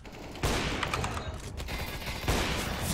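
Gunfire in CS:GO Wingman mode, loud close shots cracking out at the start and again near the end over a steady noisy game background.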